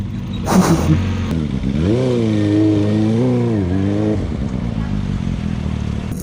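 A heavy motorcycle on a rough dirt road in rural Tarlac, a clattering bump at the start, then the engine revving up and down in a loud close drone before settling to a lower idle-like rumble.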